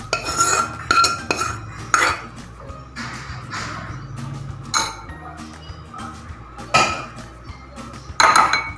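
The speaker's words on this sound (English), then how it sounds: "So now we'll plate it." Metal utensils clink and scrape against dishes while Kerala-style cabbage thoran is plated, in sharp irregular taps and rattles over a low kitchen hum.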